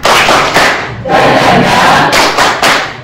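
A group claps out the rhythmic "tepuk semangat" icebreaker chant, loud bursts of clapping and voices arriving in repeated patterned phrases with short pauses between them.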